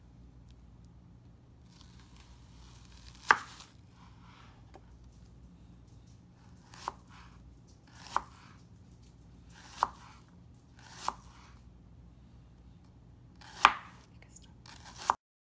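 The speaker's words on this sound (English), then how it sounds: "lay the straight edge of one of the halves on the chopping board to finish slicing and then chopping up my onion" An onion being chopped with a knife on a chopping board: sharp, isolated knocks spaced a second or two apart, close and distinct against a quiet kitchen background.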